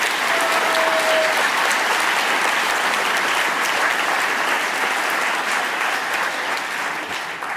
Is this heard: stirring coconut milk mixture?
no